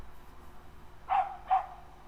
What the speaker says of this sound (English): Dog is saying guff.